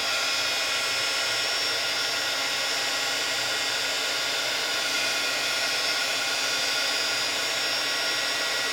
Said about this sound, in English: we're going to go ahead and use our heat gun and heat set it